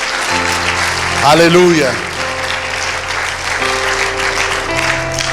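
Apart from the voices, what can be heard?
church congregation applauding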